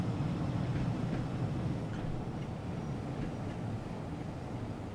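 A train departing a station in the Train Sim World 5 simulation on the Blackpool Branches line, giving a steady, fairly loud low rumble that holds for the whole stretch and fades slightly toward the end, with no talk over it.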